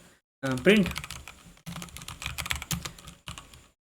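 Code is typed on a computer keyboard in quick bursts of clicking keystrokes, close and fairly quiet, with a voice speaking briefly at the start.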